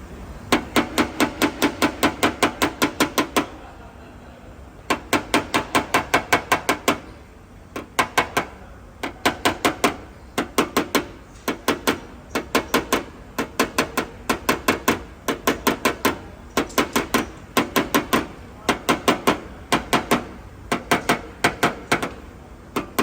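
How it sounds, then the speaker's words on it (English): Sharp metallic hammer blows with a dolly on a BMW body panel, in quick bursts of rapid ringing taps, pausing briefly between runs, close and loud. "pushing it out and hammering that edge"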